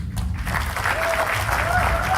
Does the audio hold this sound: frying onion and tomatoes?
no